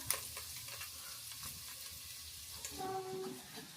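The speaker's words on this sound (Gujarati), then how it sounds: "આમાં પછી નાખી દેવાની લસણવાળી ચટણી" Garlic chutney frying in a little hot oil in a home kitchen, a soft continuous sizzle with light stirring scrapes, close and unaccompanied by talk.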